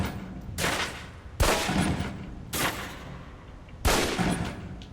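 Pistol shots hit a target on a range in the video game Alpha Protocol: four loud, separate reports spaced about a second apart, each trailing a reverberant echo.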